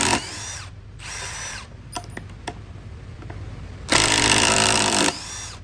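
A cordless 2953-20 impact screwdriver drives a screw into wood: two short bursts of whirring, a few faint ticks, then a longer, louder hammering burst before the tool stops, with a brief restart at the end.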